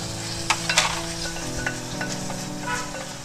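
Chopped tomatoes frying in a pot for drumstick flower biryani: a constant sizzle under a few sharp metallic scrapes and taps of a spoon, close by and moderately loud, with no talking.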